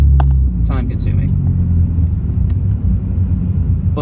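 The Type R car's engine and exhaust hold a low, steady rumble while driving, heard from inside the cabin with a few brief voices over the drone.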